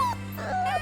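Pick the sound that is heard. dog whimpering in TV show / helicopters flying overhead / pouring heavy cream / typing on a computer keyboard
dog whimpering in TV show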